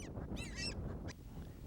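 Brant geese give a few raspy, nasal honks in quick succession, faint and somewhat distant over a low rumbling background, with no talk.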